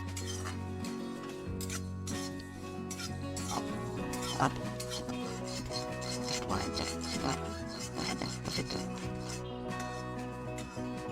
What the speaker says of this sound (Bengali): এবার এটা যতক্ষণ না ভাজা মশলার একটা মিষ্টি গন্ধ হচ্ছে ততক্ষণ পর্যন্ত নাড়ব